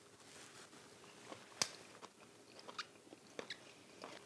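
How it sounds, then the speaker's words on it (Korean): Someone eats baked French escargot snails cooked with butter, with soft, scattered bites and chewing sounds, faint and close, including one sharper crunch partway through. "세계적으로 유명한 프랑스 3대 진미 중에 하나인 에스카르보를 제가 생전 태어나서 처음으로 이곳 하동에서 먹어보겠습니다."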